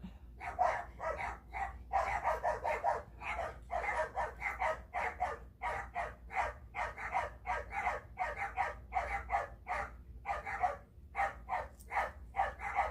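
A dog barks again and again in quick, rhythmic bursts with brief pauses between, loud and close indoors, carrying on for the whole stretch with no talking over it.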